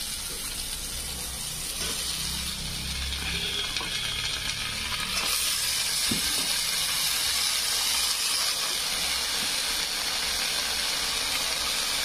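Bottle gourd leaves tossed into a pan of oil-fried poppy seed paste set off a loud, steady sizzle with a hissing, steamy roar that stays continuous throughout, with no voices.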